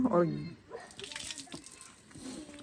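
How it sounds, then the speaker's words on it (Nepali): Water runs steadily from a village tap in a continuous soft wash, with a voice talking over it at the start. "यो चाहिँ हाम्रो धारा हो"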